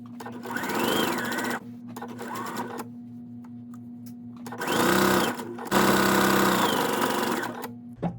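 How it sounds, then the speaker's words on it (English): Sewing machine stitching around a slipcover made from a T-shirt hem, in several close bursts of rapid whirring with pauses between them as the fabric is pivoted around curves. "we finished sewing all the way around"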